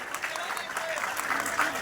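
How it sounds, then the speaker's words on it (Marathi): Crowd applause at an outdoor wrestling ground at a sugar factory, a short, fairly distant burst of clapping mixed with crowd noise. "टाळ्या करा की त्या दादा"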